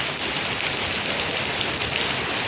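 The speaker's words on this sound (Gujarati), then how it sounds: "ધોધમાર વરસાદ ચાલુ થયો જો" A heavy downpour pours down in a dense, continuous roar of rain on surfaces, loud and close, with no pauses and no voices.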